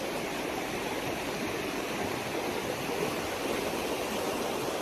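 A creek runs strongly after years of low flow, giving a steady, dense rushing and gurgling wash of water that stays loud and close without pause.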